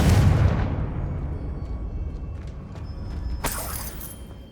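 A Confringo blasting curse erupts in the Hogwarts Legacy video game, a heavy booming explosion that rolls away into a long rumbling decay, followed by a brief crackling burst of debris near the end.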